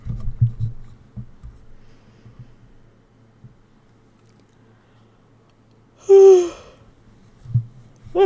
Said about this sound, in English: I hate fucking yawning.